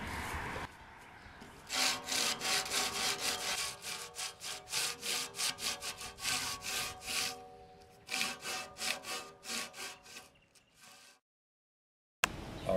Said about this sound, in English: Now you're going to use your sanding block with 80 grit paper for the rest of the inscription